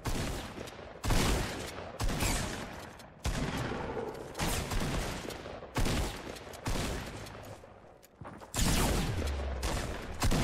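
Rapid bursts of video game gunfire crackle loudly in a duo match, volleys stacking into dense fusillades with brief gaps between them throughout.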